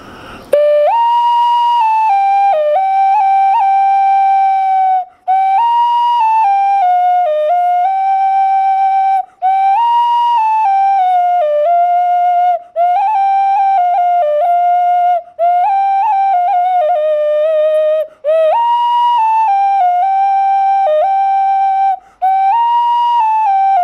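A handmade whistle shaped like a fruit bat sounds loud and piercing in long sustained notes that waver slightly in pitch, with brief breaths between phrases, close up and alone.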